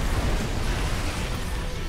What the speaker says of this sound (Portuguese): Soltar os tiros de artilharia.